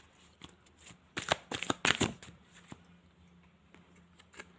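Tarot cards being shuffled in several quick riffling bursts, close and crisp, with quiet pauses between the bursts and no talk over them.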